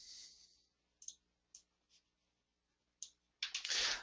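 Sharp, close mouse clicks sound singly in a quiet room while working in FCS Express flow cytometry gating software, ending in a short burst of rapid clicking and rustle.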